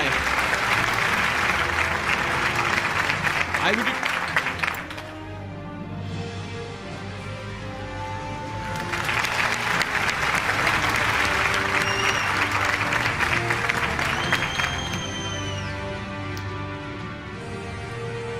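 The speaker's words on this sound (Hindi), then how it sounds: "तालियां होनी चाहिए" A crowd at an annual news-network award show applauds a winning team, two loud bursts of dense clapping separated by a quieter stretch, with a voice speaking briefly in between.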